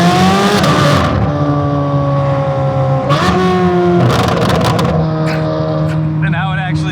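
A 2025 C8 Corvette Z06 fitted with a full titanium Fabspeed exhaust roars loudly and steadily, its engine note stepping down through several gear changes over a continuous drone.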